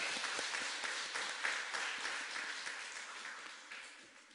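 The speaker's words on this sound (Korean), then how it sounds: "하나님께 영광의 박수 올려드리겠습니다." A church congregation claps steadily for a few seconds during a Sunday worship service, the applause dense at first and gradually thinning and fading.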